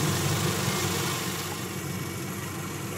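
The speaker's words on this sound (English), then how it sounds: "engine is warming up." A 1997–2001 Honda CR-V engine idles while warming up, a steady close-up hum with a low rumble and faint vibration, alone and unchanging.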